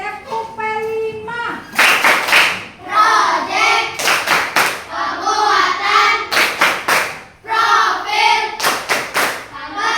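Schoolchildren in a classroom clap a rhythmic P5 clapping routine in patterned bursts of sharp, loud hand claps that alternate with the class chanting together.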